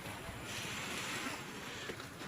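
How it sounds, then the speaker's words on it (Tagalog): Calm sea washing gently onto a beach at sunrise, a steady soft surf wash with wind rumbling against the microphone throughout. "Kalmado lang yung karagatan."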